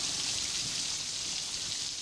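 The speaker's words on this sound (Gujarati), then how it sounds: "ખાંભા ગીરના ગ્રામ્ય વિસ્તારમાં વરસાદ વરસ્યો છે" Steady hiss of rain falling over village fields in the Khambha Gir area of Amreli district, even and unbroken, with no voices.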